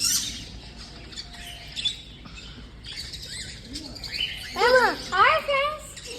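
Small birds being fed at a bird park chirp and tweet in quick, bright bursts that grow busier and louder toward the end, while people talk nearby.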